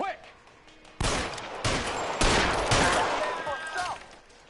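Gunfire in the L.A. Noire video game comes as several sharp loud volleys in bursts, each decaying briefly before the next, with a short voice at the start.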